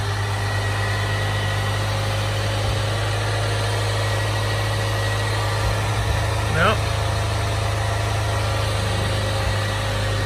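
A Land Rover Discovery Sport 2.0T engine idles just after an oil change, giving a steady, even drone with a constant low hum throughout.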